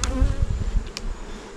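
Honey bees and drones swarm at an opened beehive while colonies are readied for their first honey supers, a dense, steady close-up buzz with no voices.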